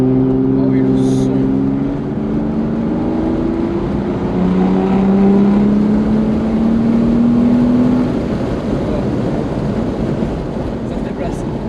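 An Aston Martin DB9 with a V12 engine accelerates, its engine note climbing smoothly and loudly in pitch as it pulls without gear changes, under steady road and wind noise.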